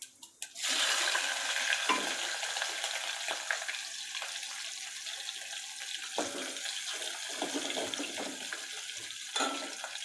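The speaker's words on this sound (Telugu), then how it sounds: "నూనె వేడైంది. ఇక ఆవాలు జీలకర్ర వేస్తున్నాం." Mustard seeds and cumin hit hot oil for a home-cooked prawn curry, setting off a loud, steady hiss with fine crackles and spits that runs close-up for nearly the whole stretch.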